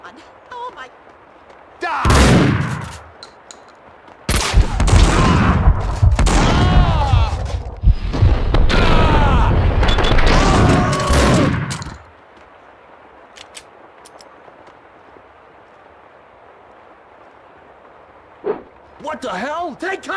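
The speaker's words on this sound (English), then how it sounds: "The sound of an explosion came from the direction of my apartment." Explosions and gunfire from the Max Payne 2 video game burst out in heavy, loud blasts over several seconds, with a quieter stretch after and a few sharp cracks near the end.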